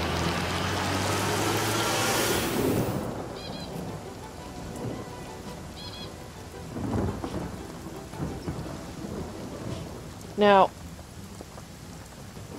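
Rain falls steadily in the fantasy role-playing game Divinity: Original Sin, a dense hiss of drops with rumbling low thunder, a few chiming effects and a short rising magical whoosh, while a voice speaks briefly.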